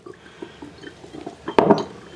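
Liquid ingredients for a homemade essential oil bug spray are poured into a glass container, a soft trickle building into a louder, brief splash near the end, close and alone.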